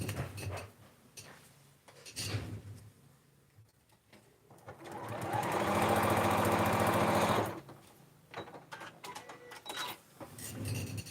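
A sewing machine stitches a quilt from a Legit Kits Deep Dive block kit in one loud sustained burst of rapid mechanical whirring, with quieter handling and shuffling before and after.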